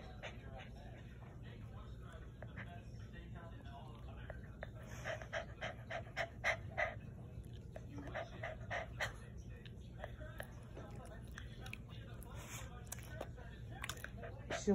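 Dog panting steadily at close range through the whole stretch, a rapid rhythmic breathing under quiet background noise, with faint human voices in the room.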